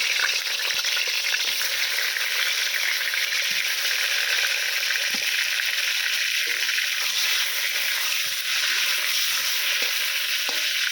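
Pointed gourd (potol) pieces frying in hot mustard oil, a loud, steady sizzle that runs unbroken throughout with occasional faint clicks of stirring.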